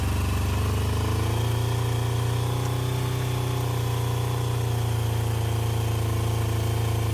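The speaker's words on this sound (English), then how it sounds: "managed to get the bike running, albeit it was a bit smoky." A Kawasaki GPZ900R motorcycle engine runs at a steady idle after a long barn storage, smoking a bit, loud and close, with a constant low throbbing hum that never cuts out.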